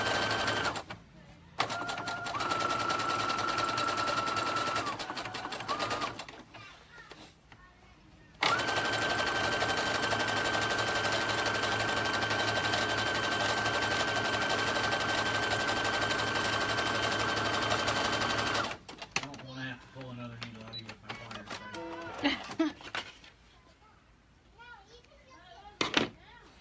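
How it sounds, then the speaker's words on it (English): A sewing machine runs top stitching along a seam to hem a garment, with two sustained bursts of steady motor whir, a short one and then a longer one of about ten seconds, separated and followed by quieter handling noises. "And it's just top stitching that seam down is what it's doing all the way across"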